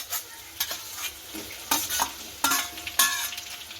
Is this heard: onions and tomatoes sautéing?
yes